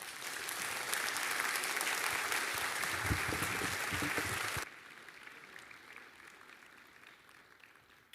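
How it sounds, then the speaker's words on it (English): A church congregation applauds steadily for several seconds, a dense wash of many hands clapping at a moderate distance, then the sound drops to a quieter room tone. "Why don't we give them a round of applause?"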